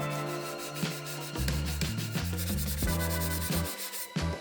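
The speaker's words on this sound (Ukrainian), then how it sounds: "Тепер із цієї банки потрібно видалити фарбу. Беремо наждачну губку і шкуримо." Paint sanded off a tin can with a sanding sponge, steady close scraping and rubbing strokes with a faint metallic ring, alone without talk.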